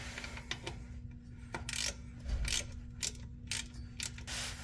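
A ratchet works loose a 10 millimeter bolt that holds a gear on the transmission of a 1978 Monte Carlo, with bursts of quick close clicking under a faint steady hum.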